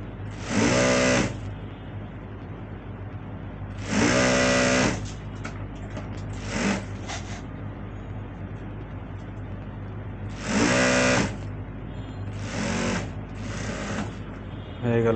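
A sewing machine stitching the hem of a pajama leg runs in several short bursts of fast, buzzing stitches, close and loud, separated by pauses with quieter handling noise.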